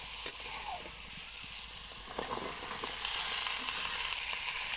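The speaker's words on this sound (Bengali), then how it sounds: "সবজিগুলো দিয়ে কিছুক্ষণ মশলাতে কষিয়ে নিতে হবে।" Cut vegetables sautéing in spice paste in a pan, a steady hissing sizzle with occasional stirring clicks that grows slightly louder toward the end.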